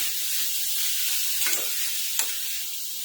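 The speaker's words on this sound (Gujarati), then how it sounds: "આપણે હવે મિક્સ કરીને સરસ એવું એને શેકી લેવાનું છે" Green chilies and green garlic roasting in a hot pan for Kathiyawadi bharelo rotlo, a steady soft sizzle with two brief scraping stirs of the spatula, no voices.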